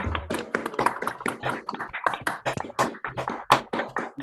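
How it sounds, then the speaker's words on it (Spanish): Scattered applause for Marco in an online meeting: a few people clap unevenly, with sharp, close slaps arriving in irregular bursts rather than a full crowd sound. "Un aplauso para Marco."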